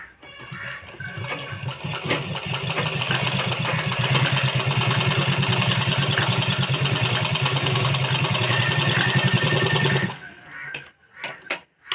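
A sewing machine runs steadily, stitching a blouse seam up close with a fast, even mechanical whir for about ten seconds before it stops and a few small handling sounds follow.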